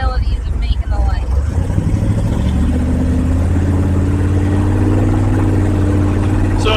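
A 1955 Chevy with a big block engine pulls away under acceleration, its deep, steady rumble and rising mid-range drone filling the cabin continuously and loud throughout.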